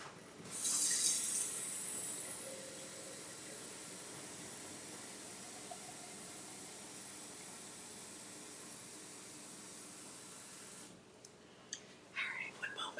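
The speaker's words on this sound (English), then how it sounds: "I'm gonna fill this with water and just fill the Keurig." Tap water runs steadily into a small pitcher, a loud initial gush settling into an even rushing stream for about ten seconds before stopping, followed by a few faint knocks.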